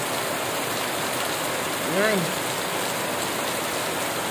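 Heavy morning rain pours down in a dense, steady hiss that fills the whole stretch, loud and close, with a brief spoken word rising over it midway.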